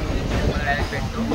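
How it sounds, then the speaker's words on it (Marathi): Passenger train in motion, heard from inside a crowded carriage: a steady low rumble and rattle of the wagons runs throughout, with faint voices murmuring underneath. "ट्रेनमध्ये चढलो आहे आम्ही"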